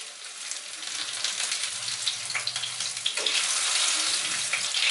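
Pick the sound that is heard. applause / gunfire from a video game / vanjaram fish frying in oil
vanjaram fish frying in oil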